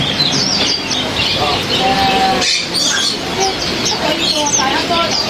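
Many birds chirp and tweet at once in Yuen Po Street Bird Garden, a busy, continuous chorus of overlapping calls with occasional squawks, and a person speaking now and then beneath it.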